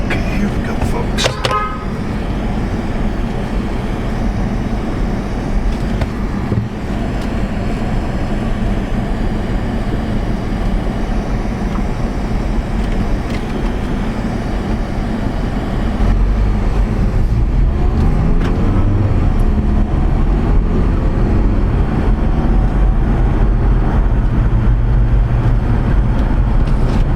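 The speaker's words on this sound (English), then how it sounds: "Cruising steady here down the main street." A car cruising steadily down a main street during a test drive for a fault diagnosis, with constant low engine and road rumble throughout and a slight rise in drive noise toward the end.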